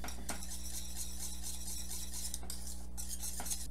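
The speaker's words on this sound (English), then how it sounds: "Whisk that in." Vanilla being whisked into a chilled mixture in a bowl, a steady continuous stirring swish with faint utensil scraping, alongside a constant low hum, with no voices.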